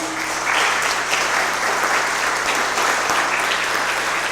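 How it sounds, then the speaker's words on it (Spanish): Congregational applause during a Spanish-language church anniversary service, a steady, full wash of clapping throughout with a faint low hum underneath. "Vamos a darle un aplauso al Señor, hermanos."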